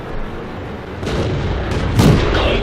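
Tank cannon fire in World of Tanks, with a Hetzer tank destroyer shooting: a few broadband booms rise out of a dense game soundscape, the strongest blast near the end landing close and loud.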